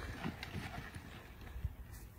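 Hoofbeats of a reining horse, a finished one-hand bridle horse, digging into the ground during a big sliding stop, several scuffing hits clustered together over steady outdoor background noise.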